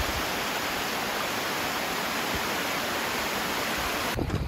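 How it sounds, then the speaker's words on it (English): Dense, rushing roar of a mountain-creek waterfall in Glacier National Park, steady and close, cutting off abruptly near the end. "here's a really pretty waterfall."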